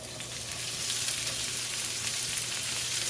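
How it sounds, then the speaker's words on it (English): Mixed vegetables, including carrots, scallions, onions and green peppers, sautéing in olive oil for a vegan Jamaican stew peas: a close, continuous dense sizzle with faint stirring, steady throughout. "Start sauteing this veggie."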